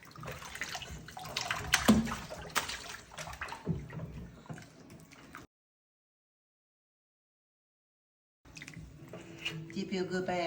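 Water splashes and sloshes in a bath as a pet spider monkey or capuchin is washed, irregular close splashes that stop for several seconds before resuming, with people talking over it.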